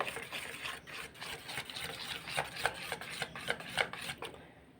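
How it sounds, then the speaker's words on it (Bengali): A whisk beats semolina cake batter in a bowl, making quick, rhythmic, wet scraping strokes close up, with sharper clinks against the bowl as the pace picks up. "সব কিছু দিয়ে মিশ্রণটাকে ভালো করে 2-3 মিনিট ফেটিয়ে নেব।"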